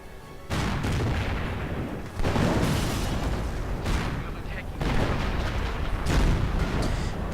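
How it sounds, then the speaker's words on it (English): Artillery fire in a World War II strategy video game, with Panthers and a Hummel in play. Dense, rumbling barrages of booms and blasts go on without a break, loud and continuous. "Artillery going down."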